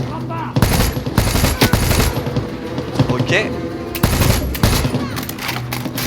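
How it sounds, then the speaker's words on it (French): Rapid bursts of gunfire in Far Cry 6 crackle loudly and repeatedly, with a brief spoken word among the shots. "Des coups de feu."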